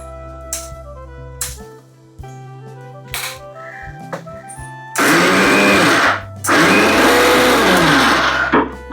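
A mixer grinder coarsely grinds moong and matki dal in two long, loud whirring bursts in the second half, with a brief pause between them, after a quieter opening with tonal background sound.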